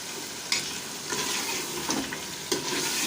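Mutton being sautéed and stirred in a pan for a palak gosht dish, a steady sizzle broken by several scraping stirs of a spoon against the pan, close and moderately loud, with no talking.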